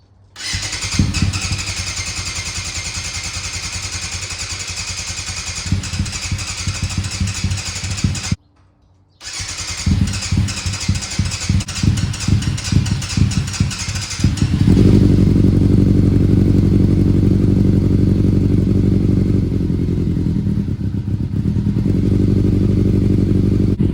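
A Yamaha FZR600 motorcycle engine with an aftermarket exhaust cranks and clatters, cuts out briefly, then starts and settles into a loud, deep, throaty idle that runs steadily.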